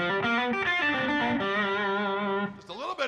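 An electric guitar runs through a Little Heat overdrive pedal, a mildly gritty held chord and single notes ringing out for a few seconds, then a brief bent-note flourish, close and clear.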